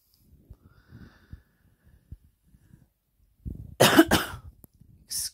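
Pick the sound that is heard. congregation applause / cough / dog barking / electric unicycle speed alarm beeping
cough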